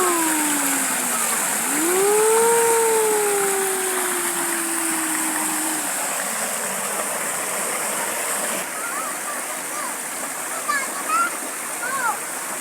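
Flowing stream water makes a steady broadband rush, close and continuous, while people talk and exclaim over it and a faint whistling tone sweeps by early on.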